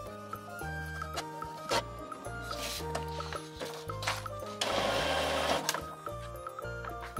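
An Epson EcoTank ET-3850 printer initializing its ink runs through repeated mechanical cycles: low rhythmic motor pulses, clicks and whirring passes, with a louder burst of whirring midway, heard close up without talk.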